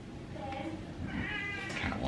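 A hungry cat meows indoors, two or three drawn-out, fairly close calls over low background noise.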